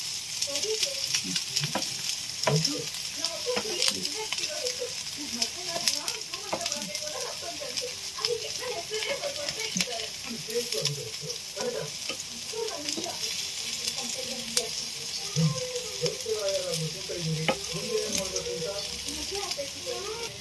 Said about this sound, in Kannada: ಎಣ್ಣೆ ಹಾಕೊಂಡು ಫ್ರೈ ಮಾಡ್ತಾ ಇದ್ದೀನಿ.